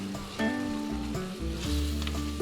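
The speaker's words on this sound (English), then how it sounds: "I'm gonna use that to deglaze the pan again, getting up any flavorful brown bits on the bottom there" Wine sizzles and bubbles in a hot pan as it deglazes browned bits left from Salisbury round steaks and reduces, with a steady close crackle and a few clanks of utensils against the pan, no voices.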